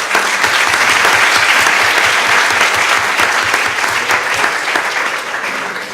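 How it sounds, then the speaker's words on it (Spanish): Loud, sustained applause from a round-table audience fills the whole stretch, dense and steady with no talk over it, easing slightly toward the end. "Un aplauso para Adrián, por favor."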